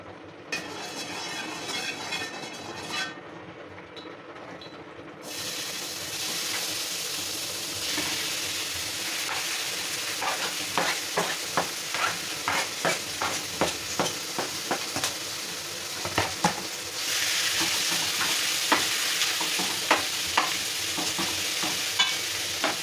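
Beef fries in oil in a pan, a continuous loud sizzle that swells after a quiet start, broken by repeated rhythmic scrapes and knocks of a utensil stirring the meat.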